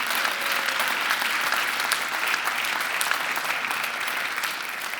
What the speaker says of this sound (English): Let's give a big round of applause to all of these folks